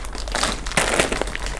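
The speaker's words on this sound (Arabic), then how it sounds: "هيفتح اخر كيس بتاعه في اول كرتونه" A plastic toy bag holding pop it fidget toys crinkles and rustles as it is torn open, in loud, close bursts of crackling that peak midway through a short stretch.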